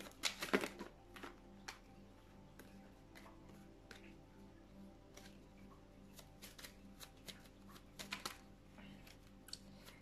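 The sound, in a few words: tarot cards being shuffled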